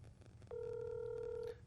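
An outgoing phone call gives a single steady ringback tone that holds for about a second over a faint background hum.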